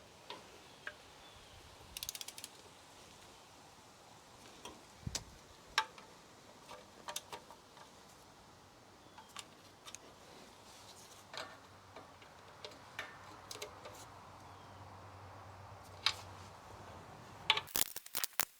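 Bolts being tightened by hand on a RAM 1500 transmission pan, a faint, quiet stretch of scattered ratchet clicks and small metallic ticks with pauses between them, no talking.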